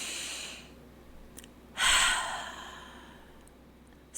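A single slow, deep breath, drawn in and let out as a loud, close sigh in the middle, with a softer breath at the start and quiet between.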